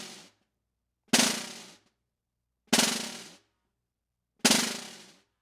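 Three short buzzing drum rolls on a practice pad, each a dense burst of rapid buzz strokes from a slightly loosened grip, separated by silences.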